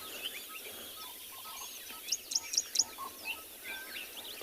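A distant purple-crested turaco calls in South Africa, a short series of bright, rising notes against a soft outdoor hiss, loudest midway through.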